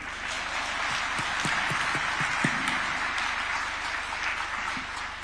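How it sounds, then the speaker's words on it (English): A continuous round of audience applause for a president at a Katiba Day constitutional event, steady dense clapping with a few sharper nearby claps, no talk over it. "I want to hear a round of applause for the President."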